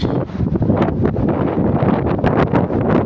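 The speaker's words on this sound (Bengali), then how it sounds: "আর এখন কি সুন্দর একটা ঠান্ডা বাতাস" Cool wind blows hard across the microphone on a scenic Malaysian outlook as rain approaches, giving loud, gusty rumbling buffets that rise and fall throughout.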